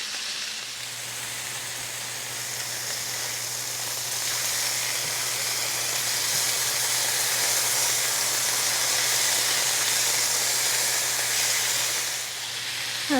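Thick pork chops sizzle steadily in hot oil in a pan, a continuous bright hiss that holds level and close throughout, with no talking.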